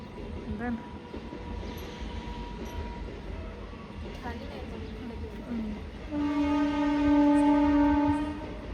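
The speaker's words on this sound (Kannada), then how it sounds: "ಟ್ರೈನ್ ಬಂತು ತಡಿ ಟ್ರೈನ್ ಪ್ಯಾಸೆಂಜರ್ ಟ್ರೈನೇ ಇದೆ" A passenger train rumbles past with a long, loud horn blast sounding over the rolling noise of the cars; a few voices are faintly audible early on.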